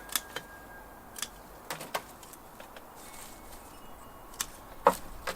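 Sharp pruning-shear snips cutting back olive bonsai branches during summer pruning, a scattered series of crisp clicks spread irregularly, close and fairly quiet, with no talking.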